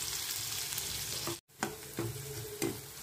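Finely chopped onion with cumin seeds sizzles steadily in butter and oil, a dense, close frying hiss broken by a brief gap and a few scraping stirs of a spoon in the pan.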